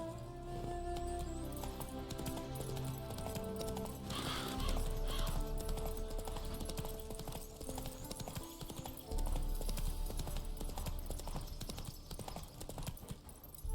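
Horse hooves clip-clop steadily in The Witcher 3: Wild Hunt, a continuous rhythmic trotting over a dense bed of game music and ambience, with a brief whinny-like swell partway through.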